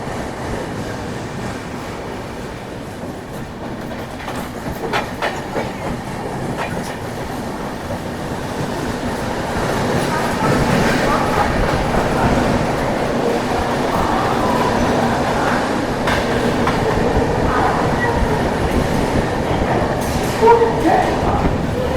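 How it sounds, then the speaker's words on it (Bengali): The Bengaluru–Howrah Duronto Express (12246) rolls through Santragachi junction, a steady rumbling rail roar with rhythmic wheel clatter building slightly louder over the span, close and continuous. "আমাদের ট্রেন পার করছে সাঁতরাগাছি জংশন"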